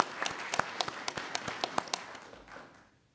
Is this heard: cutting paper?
no